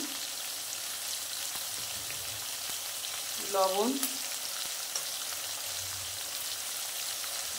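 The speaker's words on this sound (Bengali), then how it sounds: "এটাকে ভালো করে চিংড়ি মাছের সাথে ভাজবো" Shrimp fry in a pan with a soft, steady crackling sizzle that runs throughout, and a brief voice sound rises over it midway.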